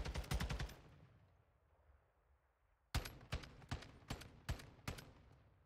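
Gunfire in Call of Duty during a competitive CRL match: a quick burst of shots, a pause with faint ambience, then a string of about eight sharp, loud, evenly spaced shots.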